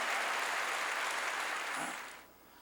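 A church congregation claps in a steady, dense wash of applause that tapers off and dies away near the end.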